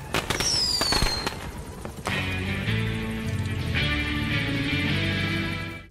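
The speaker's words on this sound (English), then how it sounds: "it's actually the sound of fireworks as Ocelot and his fellow Diamond Dogs present him with a song and a birthday cake" Fireworks in Metal Gear Solid V, set off for a birthday celebration with cake and song: sharp popping bursts open loudly, then a dense, sustained crackle carries on close by.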